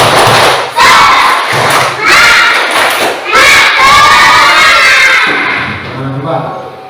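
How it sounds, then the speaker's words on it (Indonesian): Children in an Indonesian classroom perform a rhythmic spirit clap chant together, with loud group clapping and shouted voices in bursts, followed by a softer chorus near the end. "Tepuk semangat dulu. Tepuk semangat."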